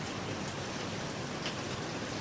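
Steady rainfall patters evenly on surfaces, a dense, continuous wash of drops with no voices, holding at a constant level throughout.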